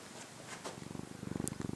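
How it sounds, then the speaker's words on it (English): A fluffy cat purring outdoors in snow, a faint low rumbling that starts quietly and grows into a steady pulsing rhythm, close to the listener. "He's purring."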